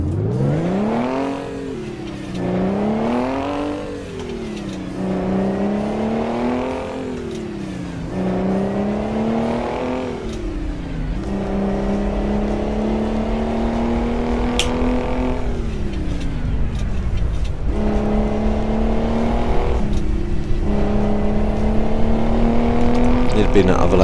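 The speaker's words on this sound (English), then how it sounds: "This engine's a bit of a screamer though, that's the only problem." A truck engine in American Truck Simulator climbs through repeated rev sweeps, each rise dropping back with a gear change before climbing again, then settles into a steady high whine. Someone talks over parts of it.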